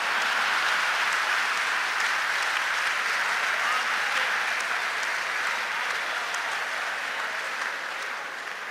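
Audience at a Hindi kavi sammelan poetry recital breaks into sustained, dense applause, loud and steady throughout before easing slightly at the end, with no talk over it.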